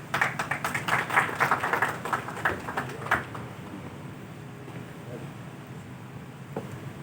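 A seated audience at a PTI gathering breaks into brisk applause welcoming the host Rizwan Siddiqui, a dense patter of clapping that fades out after about three seconds into quiet room tone.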